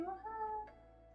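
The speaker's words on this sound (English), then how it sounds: "He's a cat." A house cat gives a single short meow, close and fairly soft in a quiet indoor room, with nothing else heard.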